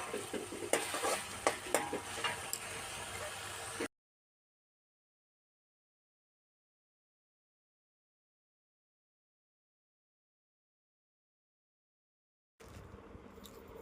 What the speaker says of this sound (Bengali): দিয়ে মশলাটা আরও কিছুক্ষণ কষে নেব